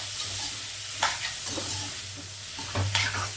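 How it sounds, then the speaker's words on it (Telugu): Grated paneer is stirred in hot ghee, a continuous close sizzle broken by several scraping stirs of the spoon against the pan. "ఇలా పన్నీర్ని ఇలా బాగా నెయ్యిలో మిక్స్ చేసుకోవాలి."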